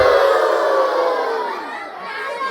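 An audience at a PHBI Isra Mi'raj and Ramadan welcome gathering shouts together in one loud, sustained burst that fades slightly, then swells again near the end.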